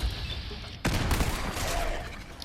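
Grenade explosions in the video game Fallout 4, at the National Guard Training Yard: a sudden loud blast hits about a third of the way in, then a sustained rumbling, crackling roar carries on to the end.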